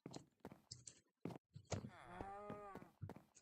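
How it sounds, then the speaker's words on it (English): A Minecraft cow moos in a game, several low, drawn-out bellowing calls that stand out clearly over bursts of talk. "Shut up, cow."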